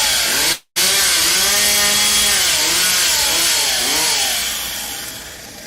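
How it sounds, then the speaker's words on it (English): A chainsaw runs loud and close, a harsh continuous engine whine that rises and falls in pitch, with one brief dropout near the start. "You can run that chainsaw on your channel."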